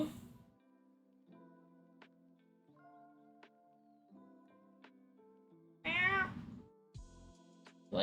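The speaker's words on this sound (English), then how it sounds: "My cat is staring at me evil like." A cat meows once, loud and close, with a drawn-out wavering cry over a quiet room with steady ticking in the background.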